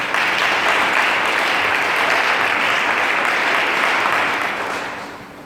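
A church congregation at a full-gospel service in Libreville applauds together, a dense, loud, steady wash of clapping that holds for about five seconds before tapering off at the end.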